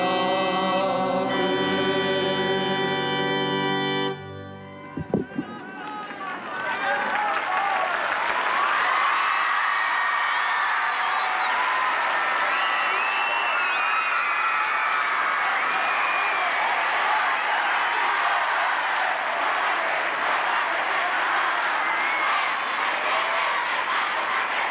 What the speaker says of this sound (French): avec les acclamations de ces jeunes à la voix puissante qui nous ont accueillis tout à l'heure sur cette place Saint-Pierre